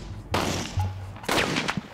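Rifle shots fired into the catalyst half of a binary explosive ring out in sharp, loud, close bursts, about three across two seconds, with no explosion following.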